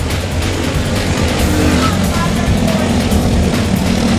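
Race cars roar at full speed around the Lake City Speedway oval, a loud, dense, continuous engine drone with no break.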